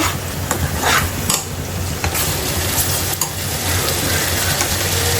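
Onion masala for chicken roast sizzling and frying in a pan while being stirred, a loud continuous hiss broken by repeated scraping knocks of the spoon.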